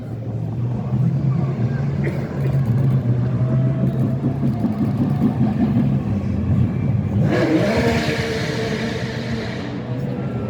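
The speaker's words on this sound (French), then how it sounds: "Ah bah oui, c'est la Porsche, voilà." Porsche race car running through a city centre street parade ahead of the 24 Hours of Le Mans, a steady engine drone with a louder, brighter pass swelling near the end, voices talking over the crowd.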